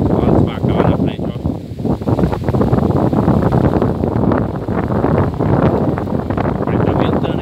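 Wind blowing across a hilltop farm with cattle, a loud continuous rushing and buffeting against the microphone while someone talks throughout.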